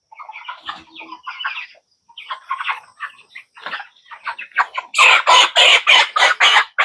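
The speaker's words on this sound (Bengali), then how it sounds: "300 পিসের মতন মুরগি আছে এখন" Broiler chickens on a poultry farm cluck and squawk close by, starting with scattered calls and building into a louder, rapid run of overlapping cries, with no talk.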